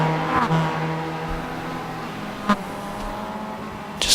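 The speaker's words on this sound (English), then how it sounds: "Just a lot of MX-5s right here on this part of the track" Mazda MX-5 race cars circling a racetrack, engines droning steadily at mid distance with layered overlapping tones, a short sharp mechanical blip partway through and another near the end.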